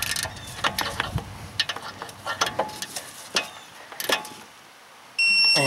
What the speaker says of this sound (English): I did torque this because I didn't want to walk away without having it torqued